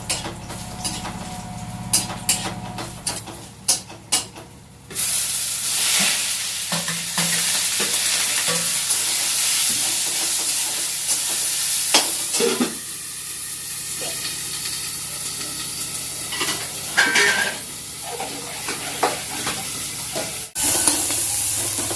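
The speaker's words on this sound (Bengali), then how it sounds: "আর এখানে একটু লাল শাক ভাজা করছি" Red spinach fries in a pan over a home cooking stove, a steady close sizzle and hiss broken by repeated scraping and stirring clatters, with no talking.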